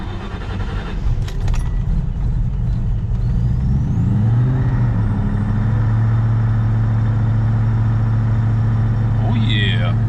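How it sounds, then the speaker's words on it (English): An engine cranks and catches, then settles into a steady rumbling idle; a brief jingle of keys is heard near the end. "The car starts."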